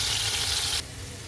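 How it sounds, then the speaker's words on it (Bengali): Fish frying in oil in a pan, a close, loud sizzling hiss that drops abruptly in level partway through, with no talking. "দেখো মাছ ভাজা চলছে"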